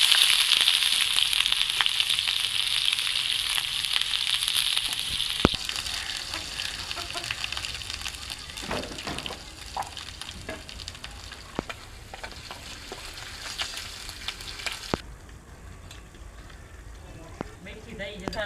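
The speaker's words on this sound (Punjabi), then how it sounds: "ਤੜਕੇ ਵਾਸਤੇ ਲਸਣ ਪਾ ਦਿੱਤਾ। ਮਾਸ਼ਾਅੱਲਾ ਲਸਣ ਪਾਤਾ ਤੇ ਨਾਲ ਹੀ ਅਦਰਕ ਵੀ ਪਾ ਦਿੰਦੇ ਆ ਵਿੱਚ।" Garlic and ginger sizzling in hot oil for a village-style tempering, a bright loud crackle that eases after a few seconds into softer frying with scattered stirring taps.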